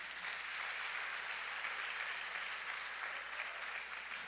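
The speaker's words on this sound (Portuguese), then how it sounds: "dê um aplauso a Ele" A church congregation applauds during a Portuguese-language service, a steady, dense wash of clapping that holds at an even level from start to finish with no break.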